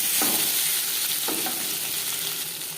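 Potatoes frying in oil left over from frying paneer, a steady close sizzle with a couple of soft stirring scrapes, no talking.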